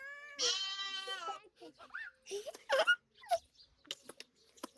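A single wavering sheep bleat rings out clearly near the start, followed by scattered clicks, rustles and brief voices.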